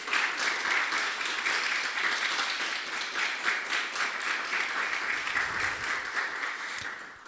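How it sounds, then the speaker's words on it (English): Steady, full audience applause at a climate accelerator demo day, a dense wash of many hands clapping continuously at even loudness with no speech over it. "I want to give them a warm round of applause."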